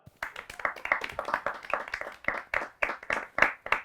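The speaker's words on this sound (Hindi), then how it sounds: "बजाओ ताली।" Audience at a live comedy show breaking into a steady burst of hand clapping, many quick claps close together at a moderate level with no talking.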